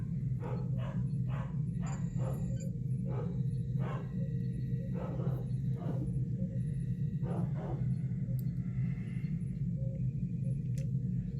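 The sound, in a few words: dogs barking outside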